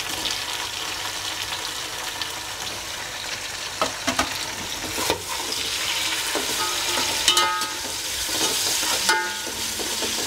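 Tomatoes go into frying onions in a pan for prawn biryani, a steady close sizzle with a few stirring clatters and spoon knocks, no talking.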